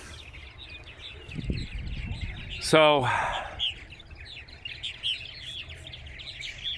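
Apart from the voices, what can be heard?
purple martins chirping and calling at nesting platform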